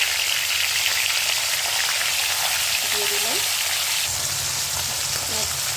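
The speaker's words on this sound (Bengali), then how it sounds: "দেখুন, মাথাগুলো ভেজে নেওয়া হচ্ছে।" Fish heads fry in hot oil for a Bengali greens-and-fish-head dish, giving a steady, close, bright sizzle that continues without pause, with a few words spoken briefly over it.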